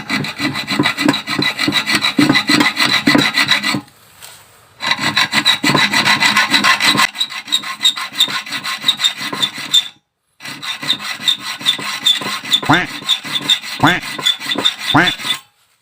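Rhythmic back-and-forth strokes of a hand saw rasping through a metal crankcase cover bolt on a Yamaha Fino scooter, pausing twice before resuming steadily.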